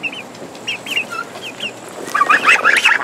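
Young backyard layer chicks cluck in short, high calls, scattered at first and then a denser burst of overlapping chirpy clucks near the end, fairly close by.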